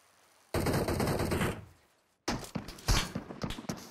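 Automatic gunfire in PUBG Mobile: a dense loud burst of rapid shots for about a second, a brief pause, then another volley of sharper, uneven shots close by.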